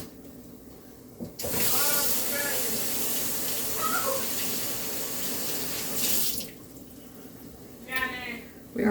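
Tap water runs steadily into a kitchen sink to rinse asparagus, a close, even hiss lasting several seconds that stops, then a brief splash returns near the end.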